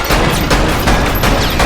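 Rapid bursts of virtual gunfire in the VR police-training arcade shooter Lethal VR, a dense, loud volley of shots cracking in quick succession with no pauses.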